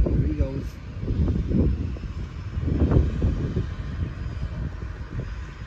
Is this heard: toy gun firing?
no